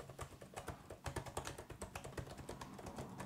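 Rapid, uneven keystrokes on a computer keyboard at a small home office desk, a faint, close clatter of taps running throughout.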